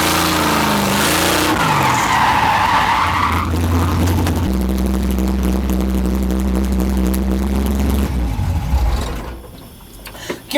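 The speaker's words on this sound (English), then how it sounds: "But I guess do a quick little skid." An engine revs and car tires skid loudly for several seconds, then a mechanical rattle follows as the sound fades.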